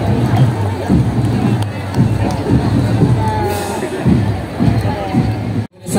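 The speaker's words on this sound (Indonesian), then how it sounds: "Kita berikan tepuk tangan paling meriah untuk klan" A crowd cheers and chatters in a constant roar at a cultural parade in Tanjung Pinang, Riau Islands, held for the Republic's 77th anniversary. Voices and shouts blend into a loud, close wash before a sudden brief cutout near the end.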